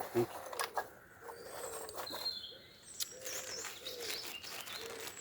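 Small birds chirp and twitter beside a quiet canal, several short calls and thin whistles scattered over a soft background, with occasional low human sounds and faint noise beneath.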